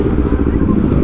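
Big bike motorcycles ride alongside at night, their engines a steady, loud, rumbling drone close by with no break.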